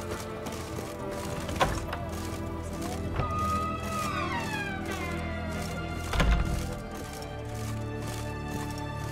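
A black cat meows in The Witcher 3, a few short, rising mewing calls standing out over steady game ambience and music, with a couple of dull thumps.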